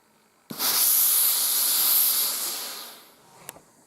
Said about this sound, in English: I have never known anything to have steam like that.